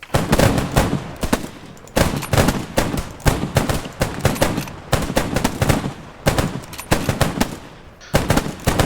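A platoon of rifles fires repeated volleys in the World War II shooter Squad 44, loud cracks in ragged, clustered bursts with brief pauses between them, heard alone without talk.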